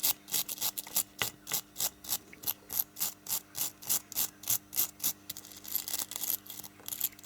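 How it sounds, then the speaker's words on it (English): A small wire brush scrubs the metal legs of a radio valve from a Ferguson 342-BU portable radio, giving close, rhythmic scratchy strokes about three per second, steady and quiet, with no talking. "get a small wire brush and just run across the valve legs, just to remove any oxidization on them"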